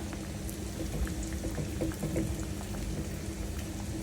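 Rohu fish pieces fry in hot oil seasoned with red chilli, a steady, close sizzle with scattered crackles and pops and no voices.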